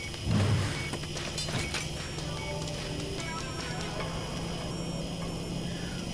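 A truck engine runs in Surgeon Simulator as the vehicle moves, a steady low hum with a brief louder thump early on, continuing evenly under faint clatter.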